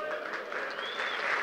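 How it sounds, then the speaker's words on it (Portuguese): A church congregation applauding during a praise and worship session, dense steady clapping that fills the space with an even wash of sound, a faint tonal thread running underneath. "é para ti, Jesus, é para ti esse aplauso"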